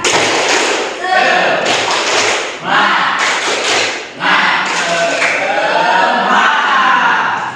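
Students in an Indonesian classroom perform a rhythmic spirit clap, a loud run of fast patterned claps and slaps that continues without pause, with brief dips between bursts and voices mixed in.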